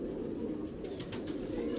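Pigeons coo softly, migratory birds, under a steady broadband background hiss, continuous and close, with no talking.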